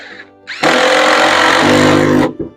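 A power drill drives a screw into a goat-proof door, a short loud whirring burst lasting under two seconds, with a brief quieter whir before it and a tail-off after.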